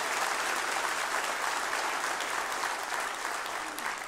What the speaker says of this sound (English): can we give a round of applause for the folks that made this possible?